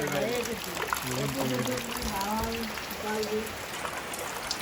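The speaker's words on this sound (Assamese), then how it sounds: "বৰষুণ পৰি আছে" Rain falling on Diwali makes a soft, continuous pouring hiss in the background while people talk over it throughout.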